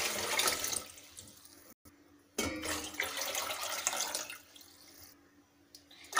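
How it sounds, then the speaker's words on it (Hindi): Water from a tap pours into a large cooking pot for Rajasthani carrot and beetroot kanji, a steady rushing stream that cuts off briefly and resumes, close and fairly loud with no talking. "ये हमने पानी डाल दिया है।"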